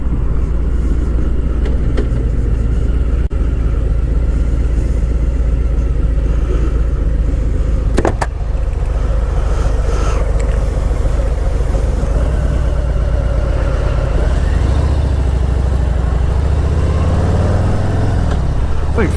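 A 2018 Harley-Davidson Softail Heritage Classic cruiser with a high-flow setup rumbles continuously on a ride, a deep, loud, steady engine drone with wind noise and brief shifts in pitch as the throttle changes.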